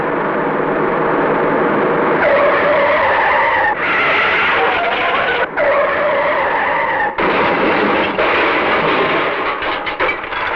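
A car skids hard with sustained tire noise, loud and close, running continuously with several abrupt breaks and no talking over it.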